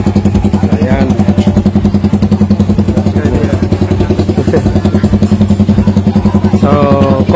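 Someone's motorcycle idling at a motor show in Kiamba, a loud, close engine with a rapid, even thumping pulse running throughout, with people talking over it.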